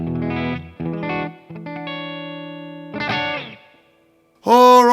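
A Telecaster electric guitar through a Boss Katana amplifier on a clean setting plays short chord strums, a long ringing chord, then more strums and a final sharp hit, close and without talking.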